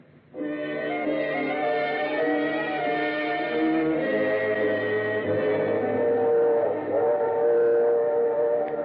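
A train runs steadily as a radio drama sound effect, a dense continuous rumble and rattle with a sustained whistle-like tone, loud and unbroken after a quick start, with no talk.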